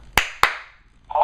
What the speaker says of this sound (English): Double clap.